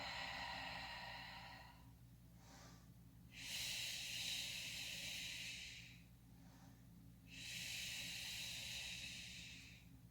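Breathing during a power yoga session: long, hissing breaths through the nose, a drawn-out exhale followed by a pause and another strong exhale, close to the microphone and heard alone.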